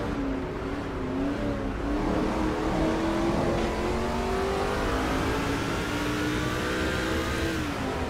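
Race car engines from NASCAR 2005 in a Kroger 200 truck race drone and rev continuously, with several pitched engine tones rising and shifting close together and no talk.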